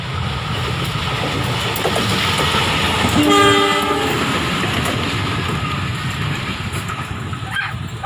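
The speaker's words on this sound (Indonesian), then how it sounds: "kereta nih." A train rumbles past at close range with a steady roar, and a loud horn blast sounds midway.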